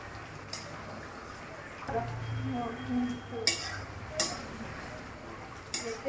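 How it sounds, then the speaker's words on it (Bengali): A spoon stirs and scrapes a pot of chicken curry cooked with yogurt and tomato, giving a few sharp clinks and knocks over a low simmer while a person talks. "এইভাবে নেড়ে দিতে হবে।"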